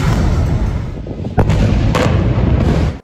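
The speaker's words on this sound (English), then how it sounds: "In response, Israel retaliated with airstrikes against Hamas." Heavy, continuous rumbling of airstrike explosions in war footage, loud and sustained, with a couple of sharper blasts cutting through the roar.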